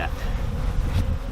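Dense, steady buzzing of many bees up close at a hive being moved, a continuous humming drone.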